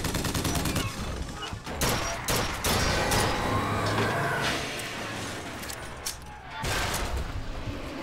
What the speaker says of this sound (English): Crank gun.